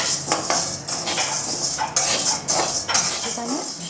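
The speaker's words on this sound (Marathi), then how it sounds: "आता चना डाळ भाजून घेणार आहे।" Chana dal being dry-roasted in a pan, with loud close scrapes and clinks of a metal spatula stirring against the pan in irregular strokes over a faint sizzle, and no talking.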